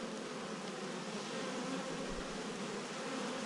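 Honey bees buzz around a managed pollination hive in Far West New South Wales. The hum is a steady, dense drone from many bees, heard up close and fairly soft, with no voices.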